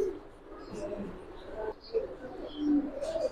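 Pigeons coo softly at a pigeon farm, low rolling calls repeating in short bursts, fairly faint, with some background murmur.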